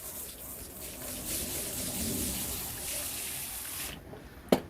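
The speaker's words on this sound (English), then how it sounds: "Then we're going to hose off again." Water from a hose sprays steadily over rubber floor mats being rinsed, a close, continuous hiss and splash that cuts out abruptly near the end, followed by a brief sharp knock.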